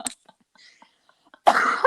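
A single close cough bursts out near the start, followed by quiet breathy throat sounds and then a longer rough cough-like burst at the end.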